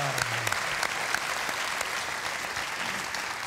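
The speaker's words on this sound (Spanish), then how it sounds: "Así que un aplauso para todos ellos" A television studio audience on a 1995 variety show claps for teachers on Teachers' Day, producing dense, sustained applause that holds steady throughout, with faint voices underneath.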